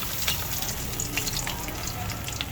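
Fish frying in hot oil gives a dense, steady sizzle with scattered crackling pops, close and continuous throughout, with no talking over it.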